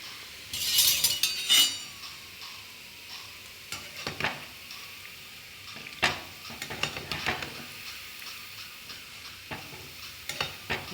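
Balls of gulab jamun dough fried in hot oil, a steady close bubbling sizzle with a hiss near the start and occasional clinks and scrapes of a spoon against the pan, no talking.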